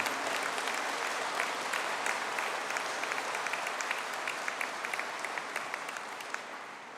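A graduation conferring ceremony audience for engineering and software master's graduates claps steadily and evenly, sustained applause from a large crowd that tapers slightly toward the end.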